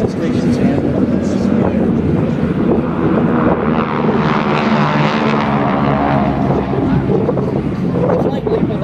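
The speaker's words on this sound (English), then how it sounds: "The Geico Skytypers are pleased to demonstrate some of the unique flying capabilities of this vintage aircraft with you in a series of demonstrations and maneuvers." Vintage propeller aircraft of the GEICO Skytypers flying a demonstration at a Rhode Island air show, a loud sustained droning roar that swells as it passes, with wind noise and a public-address voice talking over it.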